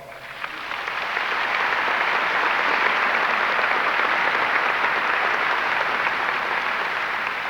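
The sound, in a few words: graduation audience applause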